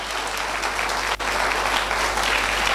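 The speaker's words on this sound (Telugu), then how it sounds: "మళ్ళొకసారి గట్టిగా కంపెనీ క్లాప్స్ ఇవ్వరా నా కోసం" An audience at a company motivational talk claps loudly and continuously, a dense, steady wash of applause with one brief dip partway through.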